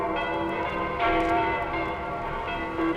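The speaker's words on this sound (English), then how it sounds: "gotta get out of the way of the sound waves of those bells" Ringing bells as a sound effect in a Spider-Man audio drama, a dense metallic clang with long sustained tones that restrikes about a second in and rings on steadily without talk.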